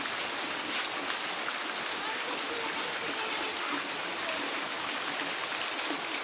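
Heavy rain falls outdoors in a steady, even wash, moderately loud and continuous with no distinct pauses.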